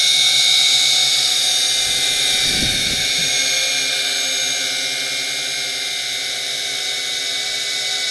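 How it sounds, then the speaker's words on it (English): A JJRC H26D camera drone quadcopter hovering nearby, with a steady high-pitched buzzing drone of spinning rotors throughout and a brief low thump partway through. "Nice stable quadcopter."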